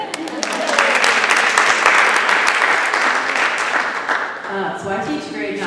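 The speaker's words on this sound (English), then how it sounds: "Go ahead and applaud." A crowd claps steadily in a dense wash of applause, with voices mixed in, fading slightly toward the end.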